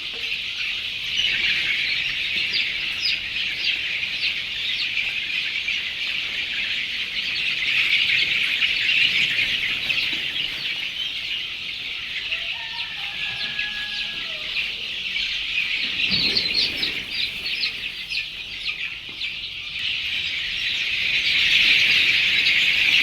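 Chickens on a country poultry farm keep up a constant high chorus of chirps and cheeps, steady and fairly loud with no talk.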